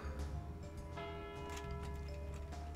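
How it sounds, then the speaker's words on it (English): A bell rings in the video game Deadly Premonition, with sustained tonal chimes layered over a steady low game soundscape and light ticking. "A bell?"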